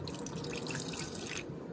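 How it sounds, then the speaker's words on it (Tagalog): Water runs steadily into a cooking pot, a continuous close splashing pour that stops abruptly near the end. "lalagyan natin ng tubig itong ating kaldero"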